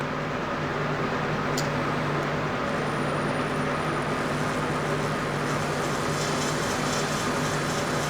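Steady whine of an SCX24 RC crawler's small motor and drivetrain, fitted with Injora underdrive gears and run at light throttle, a continuous close hum with a faint high tone entering partway through.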